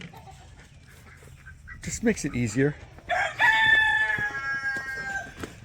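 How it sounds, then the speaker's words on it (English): Backyard chickens being fed, with a hen's drawn-out squawking call and cackling rising over a quiet background, while a person speaks briefly at the start. "I've been dividing up my chickens, feeding them in 2 different spots."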